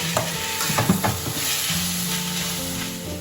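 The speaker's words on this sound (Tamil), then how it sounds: "தக்காளி போடும் டொமேட்டோ இதையும் நல்லா வதக்கிக்கணுமா" Tomatoes sautéing in hot oil in a pan for dal tadka: a steady, close sizzle and frying hiss with a few stirring scrapes and knocks, and no talk.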